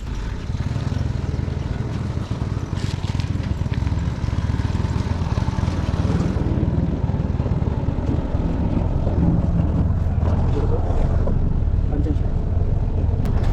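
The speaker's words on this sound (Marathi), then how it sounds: "तर इथे ॲटो पण आली आहे आणि आम्ही निघालो आहे आत्ता शोरूमकडे" An auto rickshaw engine runs loud and close on a street, a steady rough motor drone throughout with some passing traffic noise and faint voices.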